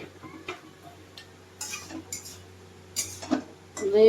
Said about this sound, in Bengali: ভালো করে আমি নেড়ে ছেড়ে দিই